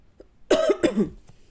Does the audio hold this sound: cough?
yes